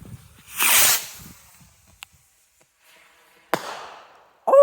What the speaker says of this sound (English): here goes the second bottle rocket, and this is a BT Big Skyrocket